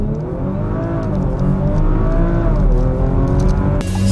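The 450 PS 2018 Audi RS4 Avant's engine revs loud and close, its deep harmonic growl holding strong and shifting pitch slightly before a sharp burst near the end.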